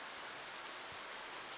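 Steady, faint rain hiss from a visual novel game scene, a continuous even wash of drops with no voices over it.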